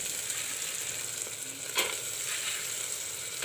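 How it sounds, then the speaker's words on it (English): Peas dropped into browned, sizzling masala for matar ki sabji, making a steady close-up frying hiss with a couple of short stirring scrapes. "Now put in the peas."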